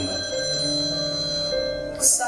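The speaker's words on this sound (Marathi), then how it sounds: "साहिल फोन नहीं उठा रहे." A telephone rings unanswered, a steady electronic ring held through the whole stretch, moderately loud, ending in a short bright burst.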